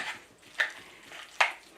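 Potatoes with kale, scallions and bacon being stirred in a pan, giving soft scraping swishes with a few sharper spoon strokes against the pan over a faint sizzle, close and without speech.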